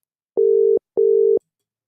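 A WhatsApp call ringing tone sounds as two steady, identical electronic beeps of equal length separated by a short gap, loud and clean with nothing else around.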